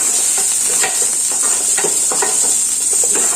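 Chopped onion sizzles loudly in hot oil in a pan while a spoon stirs it, giving a constant bright hiss broken by soft scraping strokes, with no talking.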